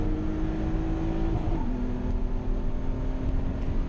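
A BMW E36 M3 held at full throttle along a half-mile straight at High Plains Raceway on a hot day, its engine a loud steady drone with a rising tone and a brief shift-like dip, no talk.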